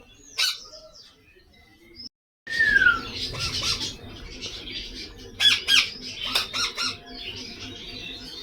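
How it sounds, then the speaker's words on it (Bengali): Young pet parrots kept at home squawk and screech in short bursts at close range, with rustling and possible wing flaps between calls and a brief silent gap near the start. "দেখো আমি এখন আমার পাখিদের সঙ্গে খেলা করছি, আমার জিয়া হিয়ার সাথে খেলা করছি।"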